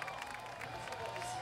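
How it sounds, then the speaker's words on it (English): Crowd cheering and applauding at a BMX flatland contest at FISE World Montpellier 2015, a steady continuous roar of many voices and claps for a fast spin, with commentary talking over it. "the crowd goes nuts for fast spins"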